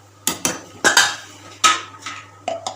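Metal utensil scraping and knocking against a pan while vegetables are stirred with salt and turmeric, giving a series of about eight sharp, close clatters at irregular intervals.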